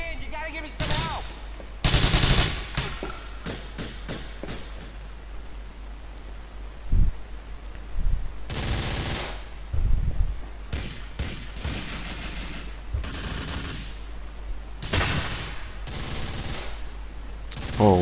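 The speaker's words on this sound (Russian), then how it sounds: "Еще один чувак стреляет оттуда." Gunfire in Grand Theft Auto, with sharp single shots and longer bursts scattered over the stretch, loud and near, over a steady noisy background with some talk.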